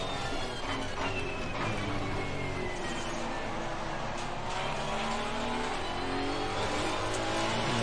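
Race car engine in Assetto Corsa Competizione roaring steadily throughout, with revving pitch shifts and a brief tire squeal as cars jostle during a race.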